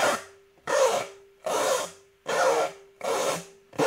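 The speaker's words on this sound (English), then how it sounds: "just getting a nice, beautiful, a nice gritty scrape" A cello chop: a bow scraping the bottom two strings in a gritty, percussive stroke, repeated six times in an even down-and-up rhythm, close and dry with silence between strokes.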